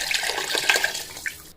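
Chicken stock, about five tumblers for a kilo of rice, is poured into the pot for chicken biryani, giving a steady splashing liquid pour that runs close and fairly loud for a moment before stopping.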